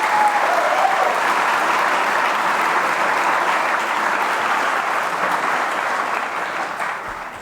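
Students and faculty at a school morning meeting break into loud, sustained applause, a thick even wash of clapping that holds steady and only slightly fades near the end.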